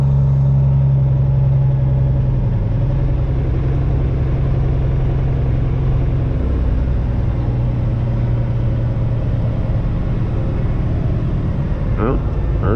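A custom Peterbilt truck with straight pipes rumbles loudly and steadily as it runs through an 18-speed transmission, with the engine note dropping once early and shifting again later.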